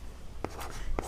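Two short strokes of chalk or pen on a board during a Class 10 trigonometry lesson, each a quick scratchy mark about half a second apart, close and fairly soft, with faint room noise in between.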